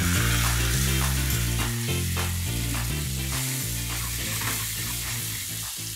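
Tomatoes with ginger sauté in a hot pan, giving a loud, dense frying sizzle with repeated scrapes and clacks of a utensil stirring, close and continuous without speech.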